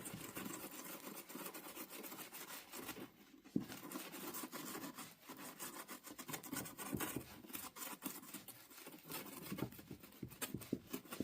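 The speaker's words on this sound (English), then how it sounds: "just smoothing it out. And then take my wet stone" Wet stone rubbing and smoothing the surface of a primitive hand-built clay bowl, a steady close rasping scrape with continuous rhythmic strokes and a brief pause partway, no talking.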